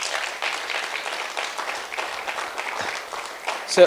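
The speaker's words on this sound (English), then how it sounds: "And I think the students of fine arts deserve a round of applause from here." A concert audience at a Women's Month event claps for fine arts students in a steady round of applause. Many hands patter evenly at moderate level, and it swells slightly at the end.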